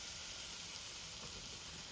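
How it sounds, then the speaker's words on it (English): A London broil beef roast sizzles in a cast iron pan with avocado oil over medium-high heat, a steady, even frying hiss that holds at a moderate level throughout. "listen to that beautiful sizzle"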